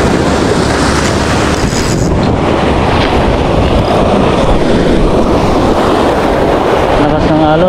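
Strong waves and gusting wind at sea during a fishing trip, a loud, continuous broadband roar of surf and buffeting wind close to the microphone, with no break from start to finish.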